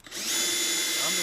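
A power drill with a 1/2 inch bit bores holes in wood for a simple wooden planter box, one steady high-pitched whine rising quickly and holding close and loud.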